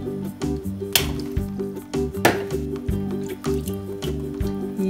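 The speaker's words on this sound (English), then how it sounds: "Let's pop our yellow water balloon." A yellow water balloon pops with a quick wet burst near the middle, with a few smaller splashy transients around it, all under steady, rhythmic nursery-style music.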